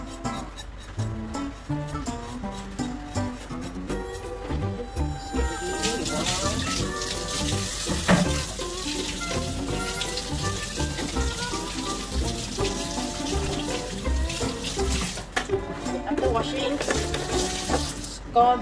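Tap water runs steadily from a kitchen faucet while raw pork is washed and scraped. A continuous, fairly loud splash and hiss lasts throughout, with occasional handling clatter and a voice talking over it.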